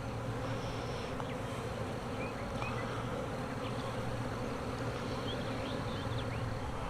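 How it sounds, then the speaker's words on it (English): A large honeybee swarm hums steadily and close, a dense continuous drone with individual bees zipping past, no voices present. "And I got a face full of bees."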